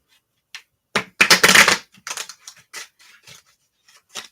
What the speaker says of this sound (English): so we're going to go ahead and shuffle them up